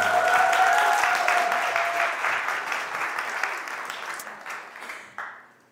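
A full audience at a parenting talk concert in Daegu breaks into applause right after a sung tune ends. The clapping starts dense and loud with a fading musical tone underneath, then thins out and dies away.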